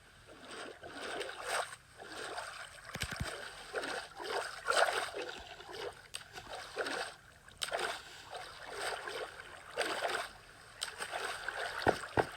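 Rushing, splashing water from a fast ride down the blue water slide on a custom Dream Island build in Minecraft, a continuous gurgling flow that surges and fades in waves, with a few sharp clicks.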